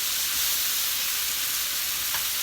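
Shrimp and broccoli frying over high heat in a pan, a steady loud sizzle with bright hiss that holds evenly throughout, with no talking.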